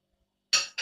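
Two quick metal spoon clinks against dishware during a home meal, a sharp bright tap followed closely by a second, after a brief silence.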